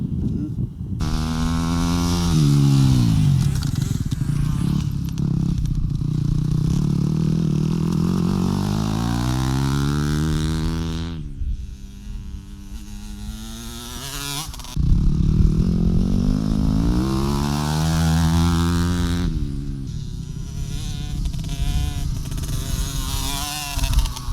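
A motorcycle engine revs up in long rising surges, dropping briefly before climbing again, loud and close.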